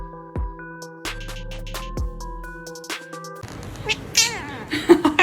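A house cat meows several times in a home with four cats, the calls clear and close with a busier, noisier stretch near the end.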